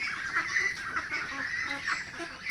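Ducks housed in a farm pen give a continuous chorus of nasal honking calls, close and moderately loud, with no voices.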